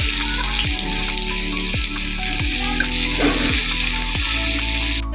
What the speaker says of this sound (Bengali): এবার পেঁয়াজগুলোকে একটু ভেজে নিই